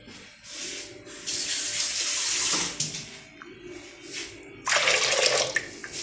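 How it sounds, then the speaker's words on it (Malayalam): Water pours in bursts into a pressure cooker holding soaked rice, two long gushing streams with a pause between, close and fairly loud, with no voices. "കുറച്ച് കൂടുതൽ വെള്ളം വയ്ക്കാം നമുക്ക്."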